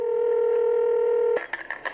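A steady telephone dial tone holds for over a second, then gives way to a quick series of short dialing beeps on a taped phone call arranged by police.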